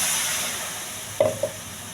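Onion paste sizzles in a hot dry pan with a steady hiss, followed by two brief scraping knocks of a utensil near the end, close and moderately loud.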